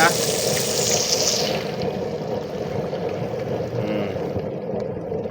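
Water is poured into a pot of arroz caldo with chicken and glutinous rice, a loud continuous gushing splash that tapers off over several seconds, with a voice talking underneath.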